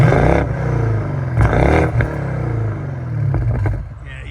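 Turbo spool from a 2014 BMW 650i 4.4-litre twin-turbo V8 with muffler delete: loud, close throttle blips over a deep, burbling exhaust, with a faint whistling whine as the revs rise and fall.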